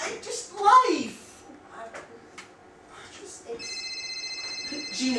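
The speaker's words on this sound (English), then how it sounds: "Jean, if you answer that phone" A cell phone rings in a stage play with a steady electronic tone late in the moment, after a burst of close-up talk and small clattering noises.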